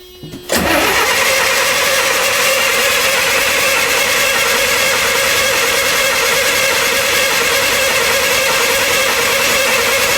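A Midland Red Leyland National bus engine, brought back after sitting idle for a long time, cranks briefly and then catches, settling into a loud, continuous close-up diesel running note.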